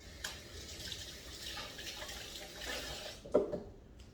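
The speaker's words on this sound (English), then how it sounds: "I'll wash my hands." Water from a sink tap runs steadily while hands are washed in a kitchen, a soft continuous splash with a brief louder spatter near the end; no talking.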